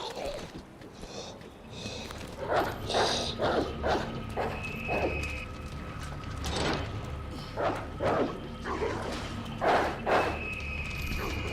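Dogs in Resident Evil 2 (2019) bark in short, repeated bursts, moderately loud, amid game thuds and a low background rumble, while someone talks intermittently over them.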